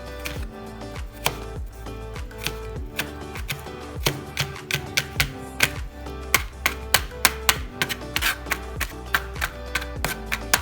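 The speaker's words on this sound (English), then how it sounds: "it's just a fine chop, maybe a mince even." A knife taps rapidly on a cutting board mincing garlic in a steady, quickening rhythm of sharp chops, close by, with no talking.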